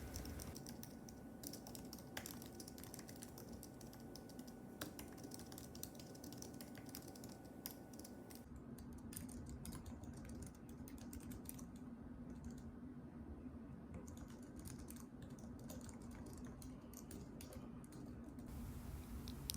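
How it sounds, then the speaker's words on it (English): Steady typing on an Apple Magic Keyboard for iPad, a continuous run of quiet, rapid key clicks at close range with no talking, at a soft and even level throughout. "Now here's some typing sounds on the Magic Keyboard."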